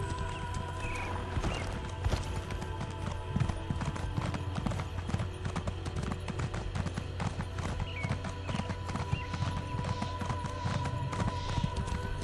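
Horse hooves clip-clop steadily at a brisk riding pace in Elder Scrolls Online, a regular mount being ridden, with rhythmic thuds running the whole time and an occasional whinny over game ambience.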